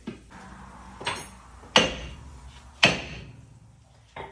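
Big hammer striking the brake rotor on a 2004-2009 Toyota Prius during front brake replacement, several sharp metallic smacks spaced about a second apart, close and loud, with a lighter knock at the end.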